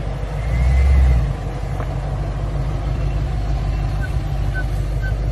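SUV rolling on a patched tire with a 5 cm gash in the sidewall, steady low road and engine rumble throughout, swelling briefly near the start, with faint voices in the cabin.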